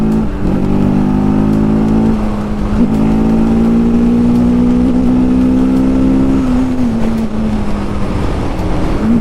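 A TVS Apache RTR 310 motorcycle engine pulling hard under acceleration, a loud, sustained droning growl that climbs in pitch through the gears with a brief dip between shifts, steady and close throughout.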